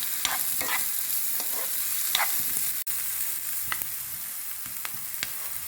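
Crushed ginger and garlic sautéing in a pan for chicken bread, with a steady close sizzle, scattered crackles and occasional spoon scrapes, no voices.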